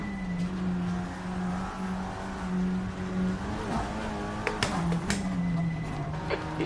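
Engine note of an Audi RS3 TCR race car at speed on the Nordschleife in a racing video game, a sustained steady drone with brief pitch shifts and sharp clicks near the end, heard without talk.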